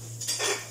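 A cooking pot is tipped over with a brief, soft clatter of utensils clinking against it, heard close over a steady low hum.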